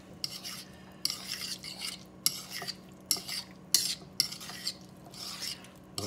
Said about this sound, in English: And I'll just take a fork and gently mix it all together.